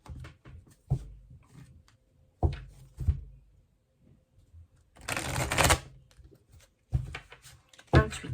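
Tarot cards shuffled by hand on a table, with soft riffling bursts and sharp taps and knocks scattered through quiet gaps, one longer riffle in the middle, close and fairly faint.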